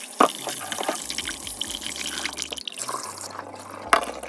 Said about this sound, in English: So I'm just going to rinse the excess salt off of this